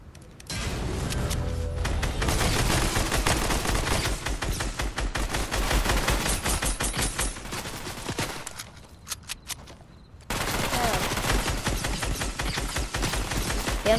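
Rapid SMG gunfire in the Fortnite video game, fired in dense, sustained bursts of close, loud shots with a brief lull before the shooting resumes.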